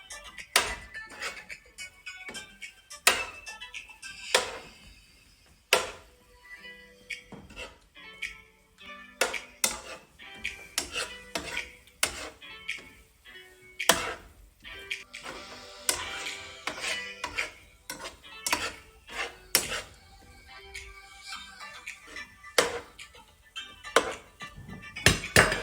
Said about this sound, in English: we're now gonna put in our ginger and stir it around for about a minute.